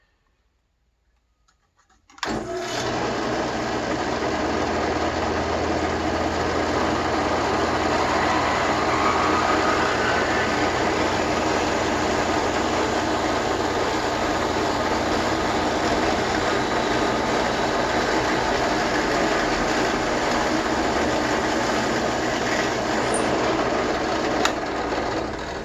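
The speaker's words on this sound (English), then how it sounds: "I'm gonna drill the final 3/16 inch hole, keeping it vertical." A drill bores a 3/16 inch hole into a wooden coaster, starting abruptly after a short silence and then whirring at a steady, loud, unbroken pitch until the end.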